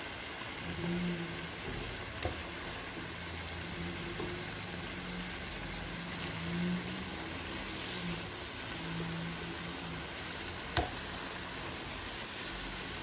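Fish fries in a pan for adobong isda, giving a continuous, even sizzle with a few small pops and clinks on top.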